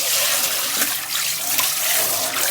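Running water rinses pieces of catfish being washed by hand in a kitchen, a steady broadband splashing and gushing that continues without pause at close range.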